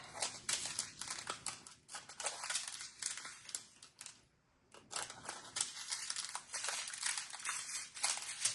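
Scissors snip and crinkle through plastic diamond painting packets in quick, repeated cuts, close and fairly quiet, with a short pause partway through before the rustling cuts resume.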